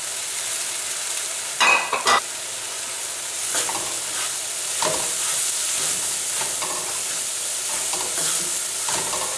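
Bean sprouts hit a hot pan and are stir-fried for Pad Thai noodles, giving a loud continuous sizzle broken by a few sharp scraping stirs of the utensil against the pan.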